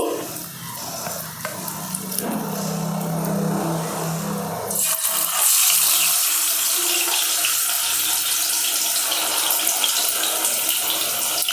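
Masala-coated fish pieces frying in oil for a Sunday fish fry, a dense steady sizzle that swells sharply loud midway as more pieces go in, with no talk over it.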